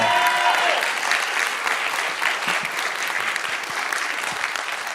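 A comedy club audience applauds comedian Alexis Lansignol, with steady, dense clapping and some cheering that holds evenly throughout without a break.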